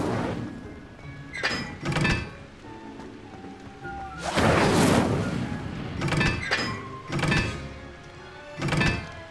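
An Incendio fire spell cast in Hogwarts Legacy: a whooshing roaring burst of flame in the middle, set among several short thumping impacts and crackles, loud and close.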